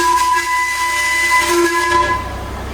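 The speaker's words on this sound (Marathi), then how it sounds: "आता हे इंजिन चालणार आहे" A steam locomotive's whistle blows in a sustained, loud tonal blast over a broad rush of hissing steam as the train gets ready to move, the whistle fading near the end while the hiss continues.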